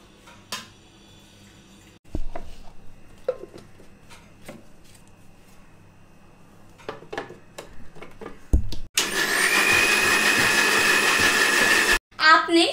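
A kitchen mixer grinder crushes strawberries with milk for a shake, starting abruptly at a loud steady whine after some quiet clatter and a person talking, then cutting off briefly before restarting.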